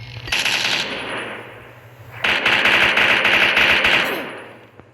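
Video game gunfire from the Minecraft Tacz gun mod: two rapid automatic bursts, each a dense, loud crackling volley of shots, separated by a brief pause, close and with no talk.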